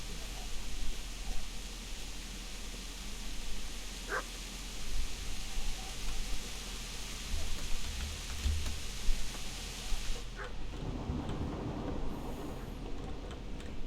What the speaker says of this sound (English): the dog sound keeps moving, so I guess the dog could be moving